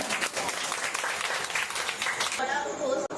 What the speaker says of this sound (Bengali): ওর জন্য একটা জোরে হাততালি হয়ে যাক।